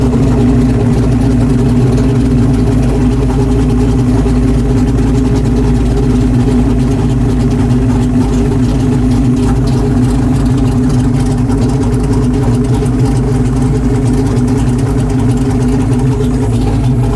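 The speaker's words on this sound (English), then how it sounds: "I'm adjusting the idle in the air" A car engine idling in a workshop after idle adjustment, a loud, close, steady low rumble that holds evenly throughout with no talk.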